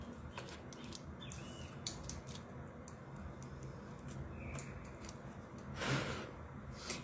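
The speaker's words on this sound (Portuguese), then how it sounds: "Deixa eu virar essas cartas aqui para baixo." Tarot cards being flipped face down on a table, giving soft, scattered papery clicks and light snaps over a low, steady room hum, with one louder rustle near the end.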